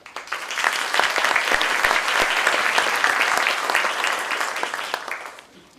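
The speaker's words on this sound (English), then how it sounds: "Let's give a round of applause to you and all the imams here." Audience at an interfaith panel applauds the speakers and imams, a dense loud burst of clapping that holds steady for several seconds before fading out.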